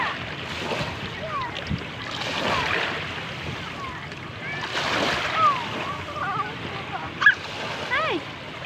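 Sea waves wash and splash around a small boat in swells of rising and falling surge, with voices and faint bird-like calls scattered over the water noise.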